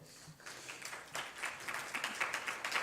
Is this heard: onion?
no